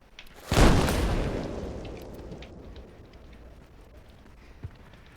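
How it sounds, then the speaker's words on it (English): An explosion in the video game Arma Reforger lands as one sudden loud boom, then rolls into a long fading rumble, with a small thud near the end. "How bad of an explosion was that?"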